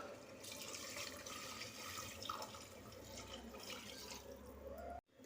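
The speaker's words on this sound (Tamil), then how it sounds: "பிரியாணிக்கு தேவையான தண்ணியை சேர்த்துருவோம்." Water is poured into a pot of quail biryani, a steady, continuous splashing gush that runs close and moderately loud before cutting off abruptly near the end.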